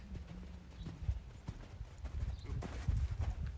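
A horse canters during roll-back training, and its hooves give a steady, rhythmic clip-clop on the ground. The hoofbeats are faint and somewhat distant, with a little low background noise.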